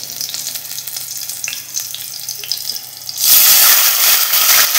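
Green chillies crackle and fry softly in a pan until water is poured in, setting off a sudden loud surge of hissing, bubbling sizzle that stays strong to the end.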